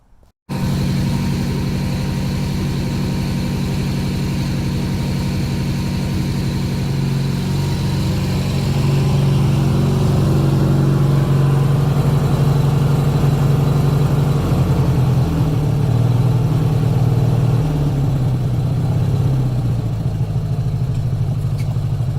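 A riding lawnmower's small engine idles with a rough, clattering putter, then its pitch rises and settles into a steadier hum partway through, running continuously without talk.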